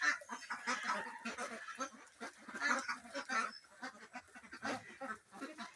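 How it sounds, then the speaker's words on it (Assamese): White Pekin ducklings, 32 days old, on a farm, give repeated honking quacks in an irregular cluster of calls, moderately close, with no talk over them. "মোৰ হোৱাইট পেকিং হাঁহ আছে, এয়া মোৰ হোৱাইট পেকিং হাঁহ"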